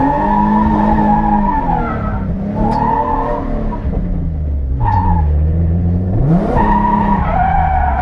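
Rental drift car thrown into a big-angle slide, its engine revving and bouncing between pitches while the tires skid and squeal continuously, loud and close.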